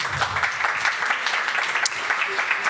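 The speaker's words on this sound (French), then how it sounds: "là aussi sous vos applaudissements chaleureux" A seated audience at a small-stage agri-business conference applauds to welcome a software company guest, steady crowd clapping at moderate level throughout, with a faint voice underneath.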